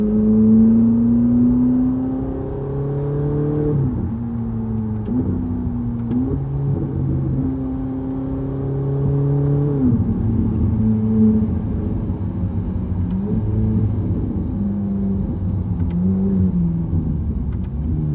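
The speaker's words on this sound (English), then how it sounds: "You can really hear them opening and closing when you let off the accelerator." A Ferrari 458 Italia's exhaust burbles and drones as the engine note rises and drops, with the tone shifting audibly each time the throttle lifts and the exhaust valves open and close.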